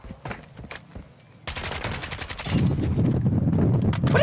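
Warzone gunfire on the Vondel Park map, with scattered shots first, then a sudden dense burst of rapid, loud automatic fire that keeps going to the end.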